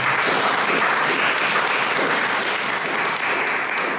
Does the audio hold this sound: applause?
yes